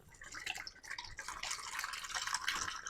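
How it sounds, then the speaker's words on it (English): Pineapple juice pours into a marinade bag in a stream that runs steadily with soft splashing and gurgling, close by and fairly quiet, with no one speaking. "we're going to pour in 6 ounces of pineapple juice"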